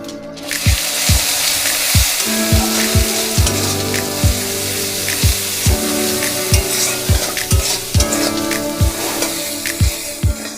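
Ginger and garlic fry with turmeric and salt in a pan for a Bengali brinjal posto, a loud, constant sizzle broken by regular scraping strokes of a spatula as it is stirred.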